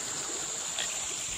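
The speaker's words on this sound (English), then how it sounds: "I got the Bluestone River behind me." The Bluestone River runs slow and lazy at a still stretch, giving a steady, even wash of flowing water close by, broadband and unbroken, with no voices.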